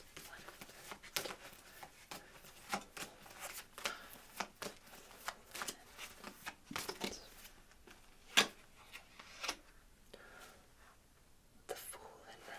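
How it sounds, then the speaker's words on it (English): Tarot cards shuffled softly from bottom to top during a quiet full moon reading, repeated close riffling bursts at an uneven rhythm, with faint soft-spoken voice between them. "I shuffle from the bottom to the top, bringing what is hidden up"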